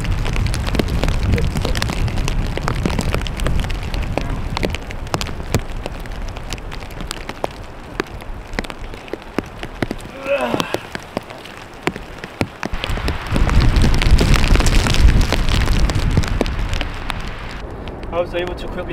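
Wind, rain and hail batter a tent during a mountain storm, a dense, roaring patter of drops and gusts that swells louder near the end, with a voice speaking briefly in the middle.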